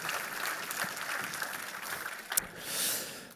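A studio audience applauds for the inventor Reymond Clavel: a steady crackle of many hands clapping at moderate distance, with one sharp louder clap near the end as the applause thins out.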